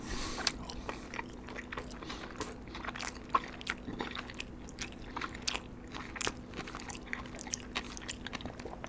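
Close, quiet chewing of a medium-rare burger with pickles, onion, lettuce, tomato and mayonnaise, giving soft irregular bites and crunches in a steady wet rhythm, with no talking.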